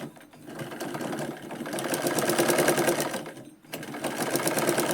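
Sewing machine stitching a katori blouse runs steadily and close, its fast mechanical whirr and ticking needle rising slightly in pace, pausing briefly near the end before resuming.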